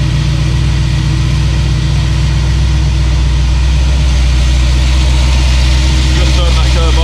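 A 1971 Ford Ranchero's new 302 Windsor V8 idles loud and close, holding a deep, steady rumble with a slight lope throughout, while a voice speaks briefly over it.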